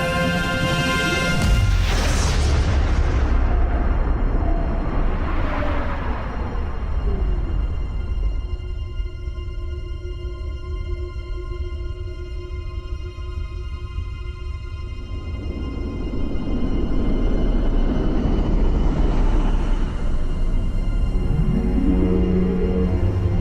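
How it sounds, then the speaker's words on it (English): An antimatter explosion sound effect aboard a starship: a loud crash opens into a long, deep rumbling roar with sweeping tones that fade mid-way, then a second swelling surge of noise builds and sustains to the end. "Antimatter explosion, sir. Artemis is gone."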